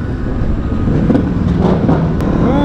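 A loud straight-piped twin-cylinder 300 motorcycle drones steadily at close range during a Halloween charity group ride, with a deep, rumbling exhaust note and some wind noise.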